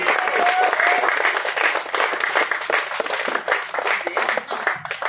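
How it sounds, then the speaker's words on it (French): A festival crowd applauds the sound engineer, loud, dense clapping that runs continuously with a few whoops and crowd noise mixed in. "Vous pouvez l'applaudir, il s'appelle Ludo"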